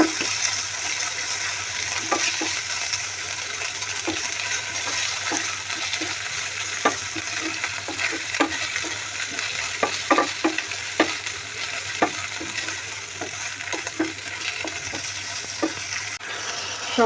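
Onion, garlic and ginger pastes frying with whole spices such as cloves, cardamom and cinnamon, stirred in a pan: a steady, close hiss of frying with regular light scraping and tapping of the spoon throughout.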